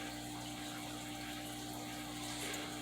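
Water is poured into a fish tank, giving a steady rushing, gurgling flow that runs unbroken throughout, fairly quiet and with no voices.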